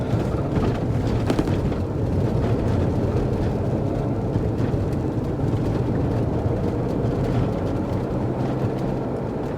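A VW California campervan rolls over a rough stretch of road, heard from inside as a loud, continuous low rumble with thumps and rattles throughout and no talking.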